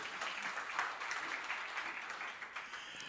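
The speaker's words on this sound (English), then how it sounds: "you can have time for applause" Applause from an online conference audience, a steady, even wash of clapping that fills the whole stretch without pauses or voices.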